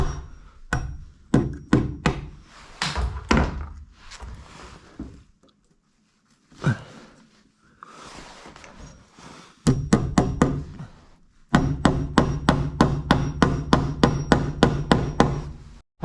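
Repeated metal hammer blows ring out close by in winter cold, starting in irregular bursts, pausing briefly, then settling into a fast, steady run of sharp strikes.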